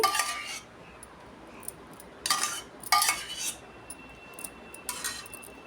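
A spoon stirs drumstick pickle in a bowl, giving bursts of close scraping and clinking against the vessel, separated by quiet pauses.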